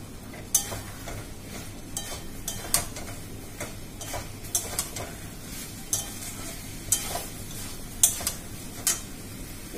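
Chicken cooked down in spices, with potatoes then added to the pan, gives a quiet steady sizzle broken by sharp, irregular clinks and scrapes of a spoon stirring in the pot.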